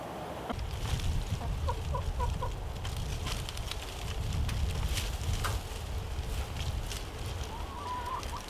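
Chickens on an Alaska potato-harvest plot cluck in short bursts over a steady outdoor background, with scattered handling noises close by.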